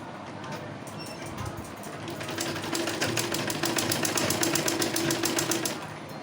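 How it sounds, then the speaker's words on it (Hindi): A sewing machine runs a double line of stitching along the joint of a dhoti salwar. After a quiet start it settles into a steady, rapid, rhythmic whirr that stays close and loud for several seconds, with no voices. "तो अब मैं यहाँ से सिलाई स्टार्ट करूँगी।"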